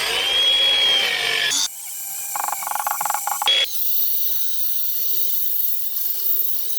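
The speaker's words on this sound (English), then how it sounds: "using a Scotch-Brite pad, giving this a nice cleanup" Engine valve parts from a Land Rover Discovery restoration are cleaned with a Scotch-Brite pad, producing close, abrasive scrubbing and buzzing passages broken by abrupt cuts.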